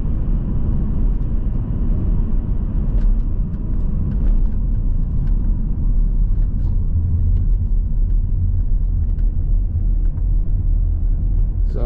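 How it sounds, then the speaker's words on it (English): Inside a 2015 Volvo V70 2.0 D4 diesel estate with a Geartronic automatic gearbox as it drives on the road: a steady, loud low rumble of engine and road noise with small ticks, no talk. "it's largely uneventful driving a Volvo"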